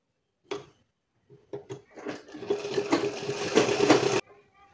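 A sewing machine stitches down the folded handle of a small fabric bag, with a few short knocks of handling before a steady, close motor whirr that runs for about two seconds and then stops abruptly.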